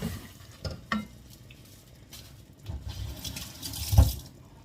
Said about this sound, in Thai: เราจะผัดให้หอม พอผัดเริ่มหอมนะคะ ผัดให้หอมแล้วก็